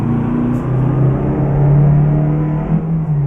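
Engine of an old 1980 model car revving steadily in the Euro Truck Simulator 2 game, a loud, continuous low droning rumble with no talk.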